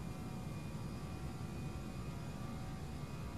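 Airbus A319 jet engines spool at takeoff thrust in Flight Simulator X, a steady broadband roar with a faint whine, even and unbroken throughout.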